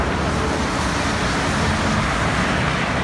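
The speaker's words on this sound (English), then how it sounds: "this blue bus here that I have behind me" City bus in Peru amid street traffic, a steady, continuous engine and roadway rumble with no distinct pauses, loud and close throughout.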